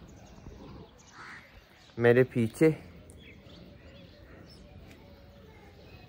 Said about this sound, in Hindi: ये देख सकते हो चिड़िया तो आ गई दोस्तों,